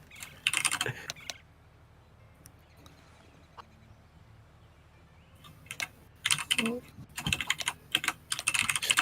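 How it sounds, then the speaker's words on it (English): A computer keyboard clatters in rapid bursts of typing, loud and near, with a quieter lull between the clusters of keystrokes and some speech faintly present. "I was typing on this"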